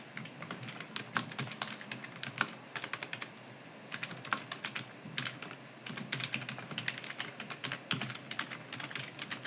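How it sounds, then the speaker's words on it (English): Steady, fast typing on a computer keyboard, close and clear, with rapid clicking keystrokes in bursts and brief pauses, no voices. "if I can type"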